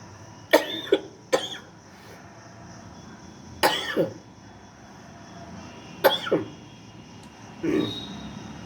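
Several separate coughs during a pranayama breathing exercise, some in quick pairs, spaced out over a quiet background with a faint steady hum.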